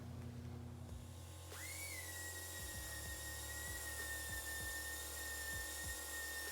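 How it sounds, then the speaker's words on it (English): A mini orbital pneumatic sander from Harbor Freight, used on a panhead motorcycle neck, starts up partway through with a rising air-tool whine that settles into a steady high drone, while low rhythmic clunks and a background hum continue underneath. "picked up one of these mini Orbital pneumatic sanders"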